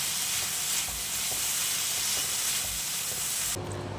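Capsicum, carrots and beans frying in a kadhai for a mixed vegetable paneer dish, a loud continuous hissing sizzle with faint stirring knocks, cutting off abruptly near the end.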